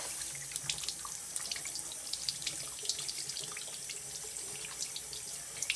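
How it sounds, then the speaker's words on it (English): A tap runs steadily as soapy hands are rinsed underneath, making a continuous close splashing hiss with small spatters and drips throughout. "We have all this soap on our hands, and we're going to rinse it off."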